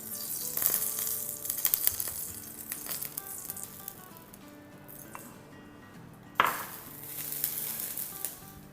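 Chicken Bihari kababs sizzle in an oiled pan over medium to medium-low heat, brushed with oil as they cook. A steady, close hiss runs throughout with a few light clinks, and a sharp burst of sizzle comes near the end.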